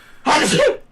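A single loud, close sneeze bursts out sharply after a brief quiet moment and fades within about half a second.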